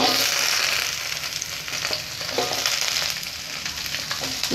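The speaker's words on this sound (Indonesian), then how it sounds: "kita masukkan wortel" Carrots stir-fry in hot oil with garlic for cap cay, a steady close sizzle with spatula scrapes and stirring clatter rising and falling throughout.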